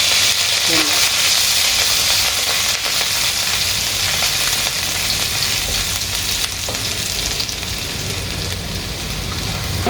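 Garlic and green chilli frying in hot oil for Indo-Chinese dragon chicken, a loud dense continuous sizzle like steady rain that barely changes over the whole stretch, with a few faint scrapes.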